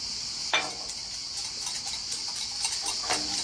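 Eggs being whisked in a bowl for a spiced courgette gratin, a steady run of light, quick clinking taps against the dish with a few sharper knocks, close and fairly quiet.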